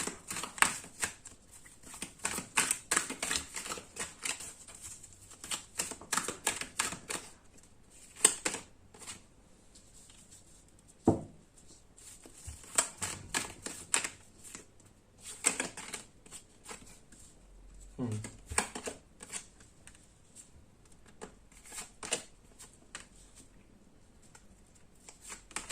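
Tarot cards are shuffled and drawn in a quiet room, giving a long run of soft, rapid riffling and flicking with brief pauses, close and fairly faint.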